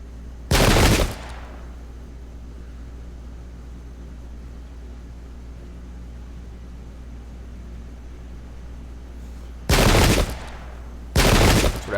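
Musket volleys in the Pike and Shot: Campaigns battle game crack out as three loud, sharp bursts of massed gunfire, one near the start and two close together at the end, with a low steady rumble in between.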